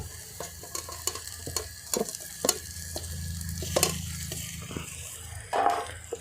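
Fried potatoes are stirred into a sizzling spice mixture in a village kitchen pan for a prawn curry, with repeated scraping strokes of a spatula over continuous close frying.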